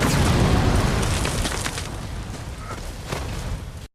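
A heavy explosion roars at full loudness and then rumbles and crackles for several seconds before cutting off abruptly, like burning clothing suddenly blowing up in a forest.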